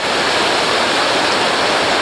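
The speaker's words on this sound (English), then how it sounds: "So coming up the trail, another waterfall." A waterfall on the Watkin Path in Snowdonia roars in a dense, constant wash of falling water, loud and close, with no voices.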